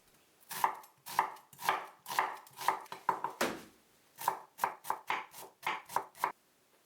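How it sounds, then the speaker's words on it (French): An onion being sliced with a knife on a cutting board, a close series of crisp, even chopping strokes in two bursts with a brief pause between, clear and alone. "J'émince un oignon."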